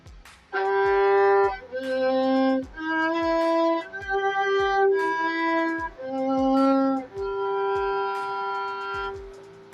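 A bowed violin plays a series of rising and falling arpeggios, each note sustained and clear, with slight pauses between phrases, played solo and close.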